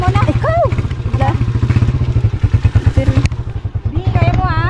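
A motorcycle engine runs close by with a steady, throbbing putter and mechanical clatter, under excited voices talking and calling out, on an outing at a mountain resort in Jamindan, Capiz.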